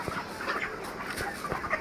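35-day-old broiler chickens on a farm, ready for sale, cluck in a steady overlapping chorus, with soft repeated calls close by and no talking.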